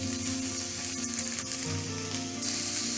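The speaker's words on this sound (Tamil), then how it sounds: "ஒரு கடாயில் கொஞ்சமாக எண்ணெய் எடுத்திருக்கேன். இதுக்கு நான் 2 மீடியம் சைஸ் வெங்காயம் ஆட் பண்ணுறேன்." Onions, garlic and ginger frying in a little oil in a kadai give a steady close sizzle with light stirring, and no talk is heard.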